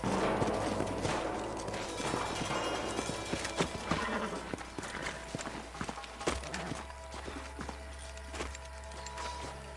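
Horses clip-clop and whinny in the Red Dead Redemption video game, with hooves thudding irregularly over a low rumbling ambience and a neigh rising in the middle.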